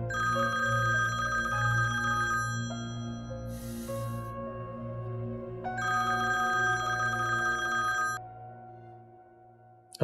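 Ringback tone on an outgoing phone call in a drama scene: two long electronic rings separated by a pause, steady and clear over a low hum, with a brief hiss between them.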